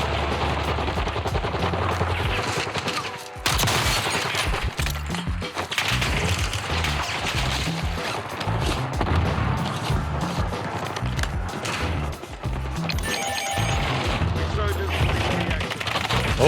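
Repeated gunfire crackles through a Warzone match in bursts and single shots, some close and sharp, others farther off, with a player talking at times over the shooting.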